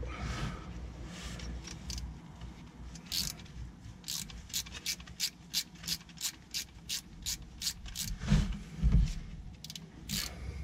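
Ratchet wrench clicking rapidly while undoing nuts on a 2.2 litre HDI engine being removed, a close series of sharp metallic ratchet bursts with short pauses and a few heavier clunks near the end.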